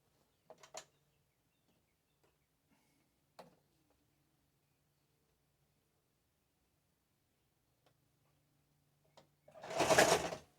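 A sewing machine stitches a zigzag seam on a hoodie in one brief, loud burst near the end, after a long quiet stretch with a few soft clicks and handling sounds.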